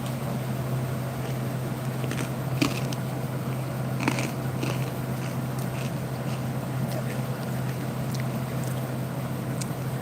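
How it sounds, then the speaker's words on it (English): Someone munches Cajun snack mix at close range, crunchy bites scattered over a steady low hum, with no talk. "while I'm munching on my Cajun mix."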